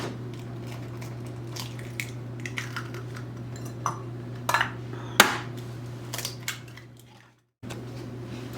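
Eggs for banana bread are cracked one after another into a bowl, giving a few sharp taps and cracks with wet squishes between them over a steady background hum.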